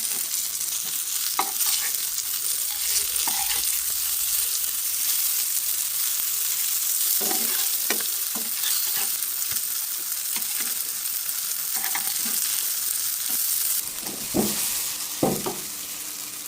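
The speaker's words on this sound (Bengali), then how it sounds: "বেগুন ভাজিটা প্রচুর তেল লাগে, 3-4 দফায় তেল দিয়েছি, তারপরে দেখেন শুরু হয়ে গেছে" Eggplant slices fry in plenty of oil in a pan, giving a steady sizzle broken by occasional sharp clinks and scrapes of stirring, with no voices.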